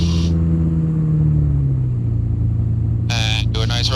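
A Quicksilver GT500 light aircraft's engine hums at idle in flight, a steady low drone that eases down in pitch, with a brief burst of wind or noise near the end.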